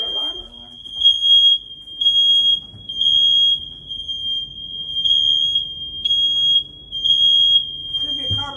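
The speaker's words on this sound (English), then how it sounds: "It's a Fire alarm?" A smoke alarm beeps in shrill bursts, roughly one every second or so in groups, loud and near, with a few voices of a small group talking indoors at the start and end.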